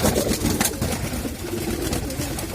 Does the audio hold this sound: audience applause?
no